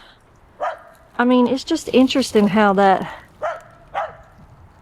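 A dog barks a few times outdoors in the woods, short sharp barks spaced out amid nearby conversation.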